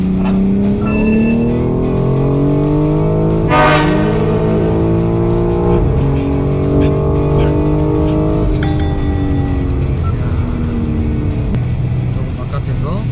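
A BMW accelerating hard on a driving-center track, heard from inside as a loud engine note climbing through the gears, with clear pitch sweeps and shift breaks, while someone talks over it.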